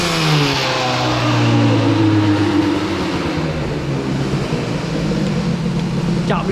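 A boosted Airsal XT 77 moped engine revs hard, its pitch sweeping down and then holding a loud, buzzing, raspy drone close by.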